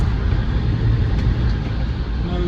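A Land Rover Defender 110 TD5 double cab drives along with its diesel engine running, a loud steady low rumble and road roar filling the cabin without any talk.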